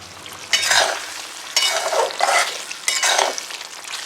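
Paneer curry sizzles in a pan as a spoon stirs it in three short rounds, with scraping against the pan over a steady close frying hiss.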